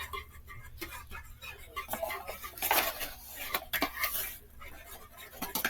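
Wire whisk mixing bread dough of flour in a bowl, irregular close rattling and scraping strokes rising and falling in bursts, with clinks against the bowl.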